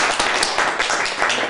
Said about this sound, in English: if you don't mind giving a big round of applause to Kiyoshi Chris Colombo.